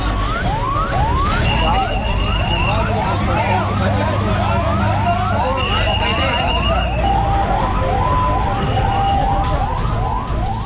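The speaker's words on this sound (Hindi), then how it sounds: "एम्बुलेंस का सायरन अचानक बजने लगा।" An ambulance siren wails loudly and continuously at close range, with rapid rising sweeps repeating for about ten seconds amid street noise in Karachi's Model Colony after a plane crash.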